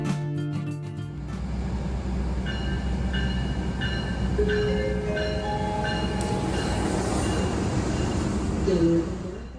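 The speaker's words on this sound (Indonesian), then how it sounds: "Yang baru saja masuk adalah kereta api Argo Cirebon ya." An Argo Cirebon passenger train from Cirebon rolls into a station platform: a steady, loud rumble and clatter of rail cars persists throughout, with a brief burst of harsh broadband noise at the start and faint tonal squeals rising over the running noise.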